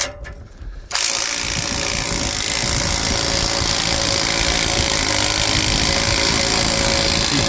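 Power tool working a tight, soaked bolt under a farm sprayer, a steady loud mechanical ratcheting whir that starts abruptly after a second of quiet and runs continuously to the end.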